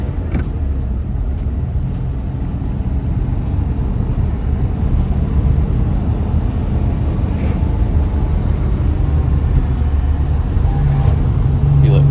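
1953 Mercedes Adenauer engine heard from inside the car while driving, a low steady drone that labours and bogs with faint road rumble, close and continuous.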